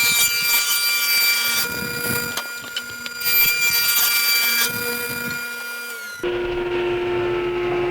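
A power saw rips 1/2 inch plywood into 3.5 inch strips in a woodworking shop, a loud sustained whine with shifting pitch as the blade cuts, ending in a steadier motor hum.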